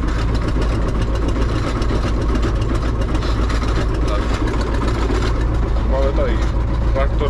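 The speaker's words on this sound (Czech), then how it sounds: "Máme tady traktor Zetor Proxima" Zetor Proxima tractor engine idling with a steady low rumble and chugging throb, close by, while someone talks over it throughout.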